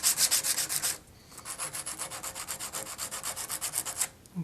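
Guitar wood is hand-sanded to remove 80 grit scratches, a close, rhythmic back-and-forth rasping of about two strokes per second, with a brief pause near the middle.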